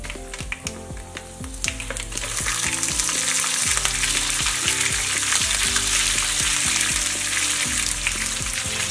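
Chana dal with split green chillies and a dried red chilli frying in hot oil for lemon rice, a steady loud sizzle with scraping stirs throughout, swelling as ingredients are added.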